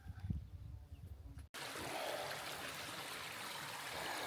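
Water trickles in a small stream beside a mountain trail on the Appalachian Trail, a steady, fairly faint flowing wash that follows a brief rustle of handling noise.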